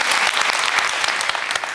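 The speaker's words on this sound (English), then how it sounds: "give yourselves a round of applause" Brief burst of studio audience applause on a daytime talk show, crisp individual claps layered into a full, even patter at close range.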